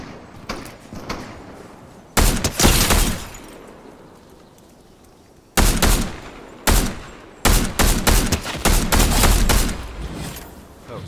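Gunfire in Fortnite, loud close bursts of rapid shots separated by quieter pauses, several volleys in quick succession.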